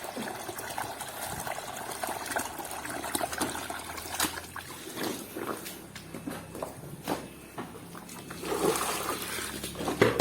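Wet cattle feed mash (comboran) of lumpy onggok and dry concentrate is stirred in a bucket, giving steady wet sloshing and squelching with uneven scrapes, quiet and close.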